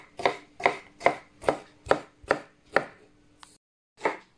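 A knife chops sweet pepper on a cutting board in about nine crisp, evenly spaced strokes, close and clear with short pauses between cuts and a brief gap near the end.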